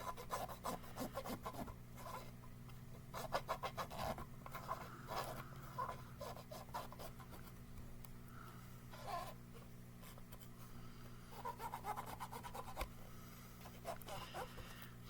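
Dirty pins of a Sonic the Hedgehog 3 game cartridge are scrubbed in quick bursts of close, scratchy rubbing with pauses between strokes, faint and intimate.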